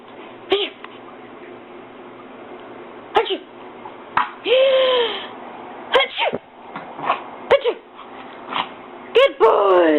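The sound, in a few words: dog sneezing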